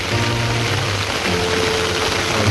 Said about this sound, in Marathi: हा गाव आहे पाऊस पडतोय लगातार